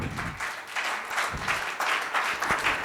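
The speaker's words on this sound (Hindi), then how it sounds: "एक बार इन सब बहादुरों के लिए तालियां हो जाए" Audience applause at an event, a continuous, even crackle of many hands clapping at moderate volume for about three seconds.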